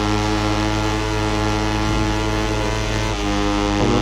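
Racing video game motorcycle engine held at full throttle, a loud, steady, buzzing harmonic drone that dips briefly and recovers near the end as if shifting gear.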